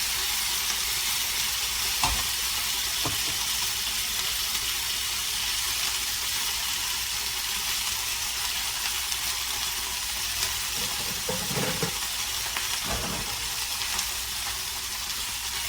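Grits mush frying in a hot skillet, a loud, constant hiss of spattering fat with a couple of brief knocks and a short rougher burst of sputtering midway.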